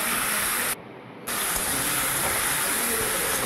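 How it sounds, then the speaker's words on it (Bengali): Green chilies and chopped tomato fry in hot oil, producing a loud, continuous hissing sizzle heard close up that briefly drops away for about half a second before resuming, with no voices. "কাঁচা লঙ্কাটা তেলেতে দিয়েছি, একটুখানি কাঁচা লঙ্কাকে ভেজে নিচ্ছি।"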